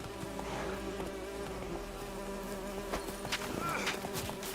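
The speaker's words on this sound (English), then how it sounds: "Oh, is that bees?" Bees buzz steadily throughout in the video game The Witcher 3, a constant insect drone mixed with ambient game sounds and a few soft footstep-like clicks, with no speech over it.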